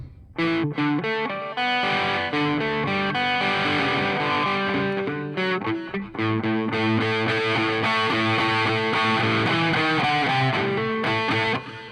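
A distorted electric guitar through a Line 6 HX Stomp heavy rock preset plays continuous chords with a thick, saturated rock tone. The playing is loud and steady, breaking off for a moment midway.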